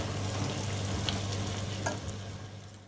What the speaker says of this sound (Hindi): दो तीन मिनट तक भून देंगे इसको